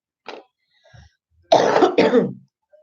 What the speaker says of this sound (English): I'm coughing all in your ear and your face and things